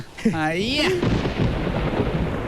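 A brief wavering tonal cry is followed by a deep rolling rumble of thunder that lingers low and steady.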